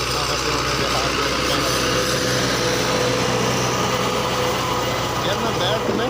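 A 2015 Fiat 640 tractor engine runs steadily with a continuous rumbling drone and high mechanical whine, loud and close, with people talking over it.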